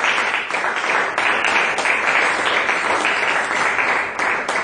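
Sustained applause from a church congregation during a Sunday worship service, dense and steady throughout with no break, fairly loud and close, with no talk over it.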